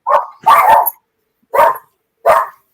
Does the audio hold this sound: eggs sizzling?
no